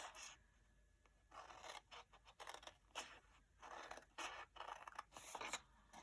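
Scissors snip repeatedly through card while a pop-up gift card holder box is cut out, a series of close, crisp rasping cuts in irregular bursts with short pauses between them.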